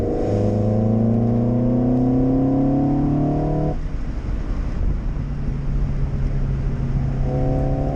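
A race car circles a wet track, heard from inside: a loud, droning engine whose pitch climbs steadily, drops sharply at a gear change, then holds and climbs again over wind rush.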